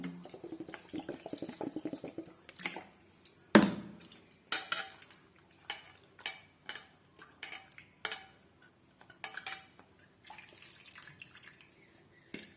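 Homemade butter from cow's milk cream is rinsed in water, giving quiet, scattered splashes and sharp clinks of a utensil against a bowl, spaced irregularly with short pauses between.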